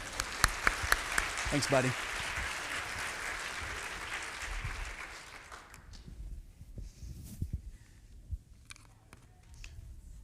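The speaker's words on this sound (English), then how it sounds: "Let's give Colton a round of applause." Audience applause at a church service, a few sharp claps then a steady wash that fades out after about six seconds, followed by quiet room sounds and a brief spoken word.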